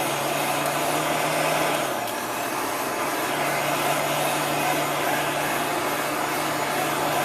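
A heat gun blowing hot air to dry paint on a chalk-decorated craft surface, a loud steady whooshing roar with a constant motor hum that barely changes throughout.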